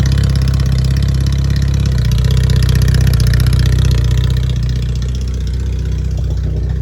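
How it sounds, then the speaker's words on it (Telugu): A motorcycle engine, cold-started after sitting unused for three days, runs at a steady, loud idle with a low, throbbing rumble that holds evenly throughout. "బండి కోల్డ్ స్టార్ట్ చేద్దాం."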